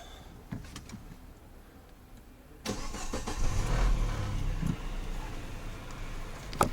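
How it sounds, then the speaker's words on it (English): Peugeot 508 facelift with a head gasket fault being started: a quiet lull, then an abrupt crank and catch at about two and a half seconds, settling into a steady, close engine running on. "I'm going to start the car now"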